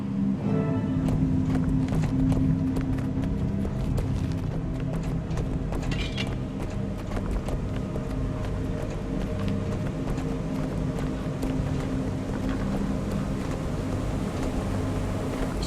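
Engine running in the video game Guild Wars 2 Heart of Thorns, a steady low mechanical rumble with light rattling clatter that holds continuously at an even level, with no talking.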